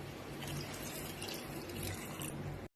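A quarter tumbler of water is poured into squid gravy in a cooking pot, giving a steady, close gushing splash that runs evenly for a couple of seconds and then cuts off abruptly, with no talking.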